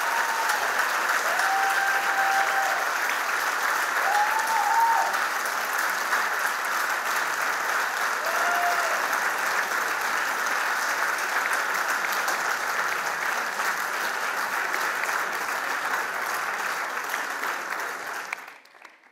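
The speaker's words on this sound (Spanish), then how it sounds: "Ahora el aplauso para Analia Belly Dance." Audience applause for a belly dance act at the Beldur Barik 2019 event in Irun: a dense, steady roar of many hands clapping, with a few faint whistles early on, sustained and fading out at the end.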